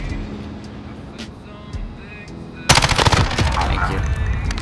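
Rapid automatic gunfire in a Call of Duty Modern Warfare Search and Destroy match, starting abruptly partway through with loud, dense bursts after a quieter stretch of game ambience.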